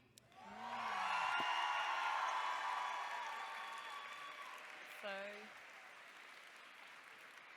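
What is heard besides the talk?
applause for Italy at a cosplay contest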